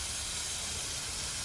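A steam engine hisses continuously and loudly, a broad, steady rush of escaping steam with a low rumble underneath and no talk.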